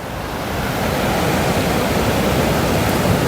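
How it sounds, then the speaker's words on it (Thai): Strong ocean waves at Surin Beach, Phuket, produce a loud, dense, continuous roar of surf that builds slightly and then holds steady, close to the recorder. "คลื่นแรงมากทุกคนสังเกตที่คลื่นนะครับ"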